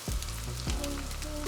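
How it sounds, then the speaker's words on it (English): Pork browning in a hot pan for Filipino pancit bihon, a loud, close, continuous sizzle and crackle of frying meat with no talk. "the pork is browning already"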